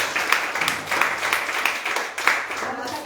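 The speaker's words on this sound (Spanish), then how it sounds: "Démosle un aplauso al Señor por su maravilla," During a Spanish-language church service, a congregation claps as praise, a broad wash of applause that rises and falls with a few stronger bursts, and voices are mixed in underneath.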